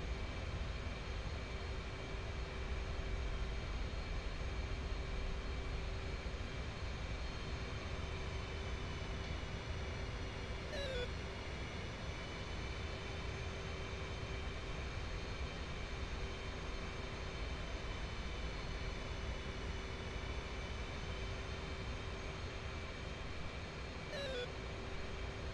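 A military jet in flight in the DCS World simulator gives a steady, low, continuous engine drone with an even hum, unchanging across the whole stretch, with two faint chirping tones briefly passing over it.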